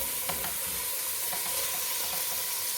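Ground beef for red chili sizzles steadily in a pan, a continuous bright frying hiss with a few faint clicks and stirs, with no voices.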